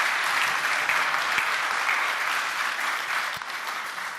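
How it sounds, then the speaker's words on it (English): An audience at a summit keynote claps continuously and fairly loudly, a dense, even wash of applause that eases off slightly toward the end. "So let's give him a round of applause"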